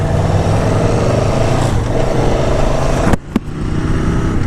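An Aprilia Tuono 1100 motorcycle is ridden through a valley in Los Angeles, giving a loud, steady engine drone with wind noise, briefly cut by a short drop and a sharp burst near the end.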